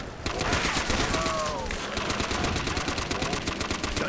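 Thompson submachine gun in a Call of Duty custom zombies map fires continuous rapid automatic bursts, loud and close, with brief tonal game sounds layered in.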